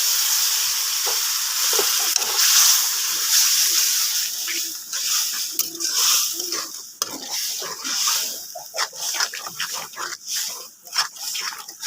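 Water poured into spices and chili powder frying in a pan, setting off a loud, steady sizzle that bubbles and crackles throughout, with stirring scrapes and brief voice-like sounds in the background.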